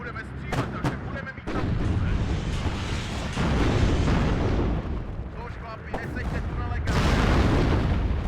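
Czech artillery pounds away in the Cold War strategy game WARNO: heavy booms and blasts pile on top of one another in a loud, dense, almost unbroken barrage with rumbling low end.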